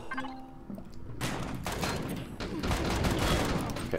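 Robot enemies fire a dense, sustained barrage of gunshots at the player inside a station in Empyrion: Galactic Survival, loud bursts running almost continuously after a brief pause near the start.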